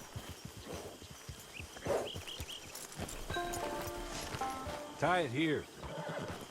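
A horse in Red Dead Redemption 2 clops along on its hooves and lets out a loud, close whinny partway through, while someone speaks briefly over the hoofbeats.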